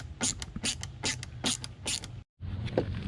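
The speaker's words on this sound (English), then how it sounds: "First we gotta unscrew it." Screws are removed from a replacement window on an RV, heard as a series of short, close ratcheting bursts with brief pauses between them and one clear gap near the end. No voices.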